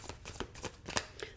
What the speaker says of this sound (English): I shuffle when I put the deck back up